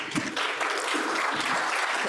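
Dense, steady applause fills a Rotary club meeting room as members clap for community organizations, continuous and fairly loud with no voices standing out.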